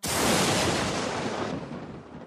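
A single loud rumble of thunder from a storm, a broad roar that holds briefly and then fades away. No voices.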